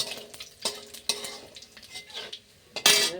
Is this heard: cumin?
yes